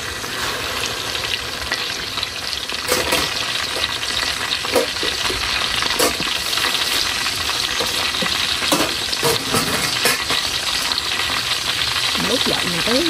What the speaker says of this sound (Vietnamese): Giờ mình cho dầu vô để mình ngồi chiên vịt nè.